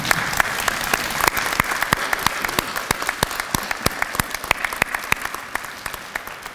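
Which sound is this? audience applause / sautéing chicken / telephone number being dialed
audience applause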